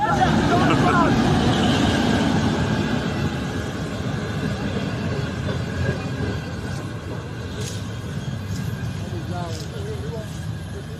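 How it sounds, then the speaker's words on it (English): A passenger train arrives at Romy station, bound for Warri, with a steady broadband rumble of rolling carriages that fades slightly over time as voices talk over it throughout. "Yes, this is Romy train station. The train has just arrived."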